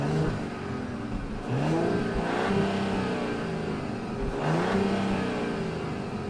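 A new Mercedes GLS engine revs repeatedly, climbing in pitch in two or three rising sweeps and falling back, moderately loud with no talking.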